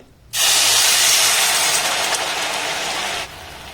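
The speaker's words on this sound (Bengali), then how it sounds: "চিনির মধ্যে দিয়ে দেবো সামান্য একটু জল" Water poured onto sugar in a hot pan gives a loud, steady hiss that starts abruptly, holds for about three seconds and then cuts off, with no talking.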